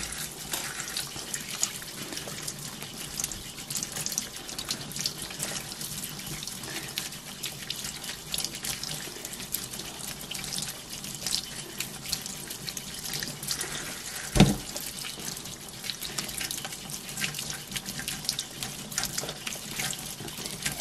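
Cold tap water runs steadily from a faucet over chunks of freshly churned butter being rinsed in a sink, a continuous close hiss with one brief splash partway through and no talking.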